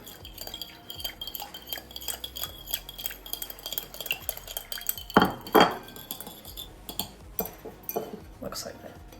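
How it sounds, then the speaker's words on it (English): Whisk clinking and scraping against a bowl while Swiss roll ingredients are combined, a busy run of light metallic taps and stirring with a louder flurry of clinks midway, under talk. "take your whisk and just whisk it until they're kind of combined"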